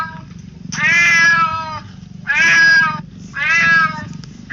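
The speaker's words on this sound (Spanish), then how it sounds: "El llanto de un gato, ¿no?" A cat cries out in three long, loud, wailing meows at a steady spacing, close and clear over a faint low background hum, with no talking.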